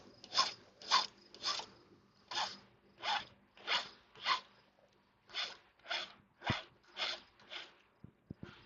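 Hand file rasping across a metal ornate cross in a steady series of about a dozen distinct back-and-forth strokes, close and clear, with a couple of sharp knocks near the end and no talking.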